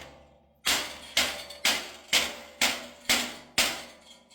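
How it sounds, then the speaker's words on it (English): A rubber mallet hammering the edge of a car body panel: seven sharp, evenly spaced blows about half a second apart, each ringing briefly before the next, close and alone without talk. "You're just going to take a rubber mallet here and go over it."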